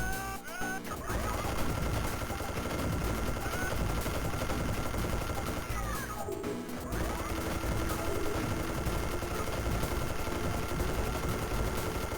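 Minigun fire in the Game Boy Advance shooter Serious Sam Advance, a continuous dense chattering burst with a brief pause around the middle, loud and unbroken over game sounds.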